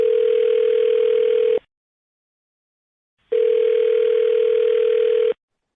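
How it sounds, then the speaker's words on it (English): A telephone ringback tone: two long, steady electronic buzzes separated by a pause of silence, heard clearly on the line. "I'm going to dial her phone number right now"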